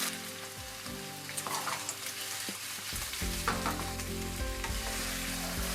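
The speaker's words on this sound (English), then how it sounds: "Then add in the cubed firm tofu and continue to stir fry for another 3 minutes." Vegan chicken soy protein and cubed firm tofu stir fry in a pan, a continuous close sizzle with scraping stirs of a utensil throughout, no voices.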